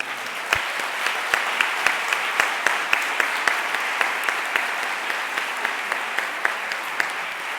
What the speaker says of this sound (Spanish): vamos a hacer un aplauso para Malio, por favor